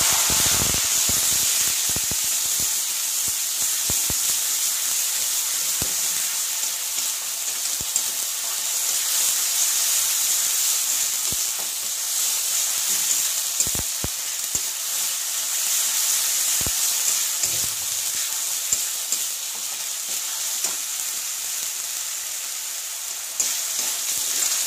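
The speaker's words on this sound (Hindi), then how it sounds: "आधी चम्मच जीरा, थोड़ी देर के लिए ऐसे भूनेंगे" Cumin seeds roasting in hot oil in a pan, a steady broadband sizzle and hiss running the whole time with scattered small crackles and pops, close and fairly loud, with no voices.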